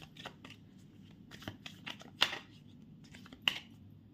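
Tarot cards being shuffled by hand, giving soft riffling and sliding bursts with a couple of sharper snaps, fairly close and quiet against a low background hum.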